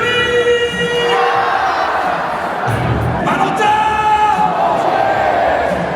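Large stadium crowd at a Nantes football match filling the air with sustained applause, cheers and chanting, a loud continuous roar with shouts rising above it.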